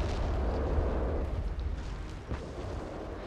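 A recoilless rifle fires and its shell explodes in the war strategy game Company of Heroes: a heavy, rumbling boom that rolls on, then slowly fades, with no voices.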